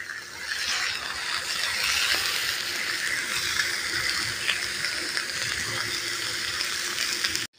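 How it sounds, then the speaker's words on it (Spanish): Fish and shrimp sizzle on a hot grill, a steady, dense crackling hiss that holds at an even level throughout, close and continuous, ending abruptly. "Se escucha como chilla este asador, qué hermoso, qué hermoso."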